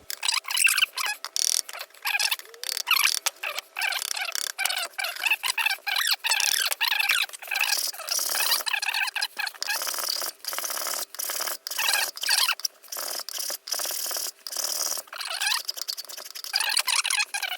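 Wood being hewn by hand from a Stagg left-handed guitar during repair, a fast run of scraping, rasping strokes with squeaky edges, close and fairly loud, with no talking.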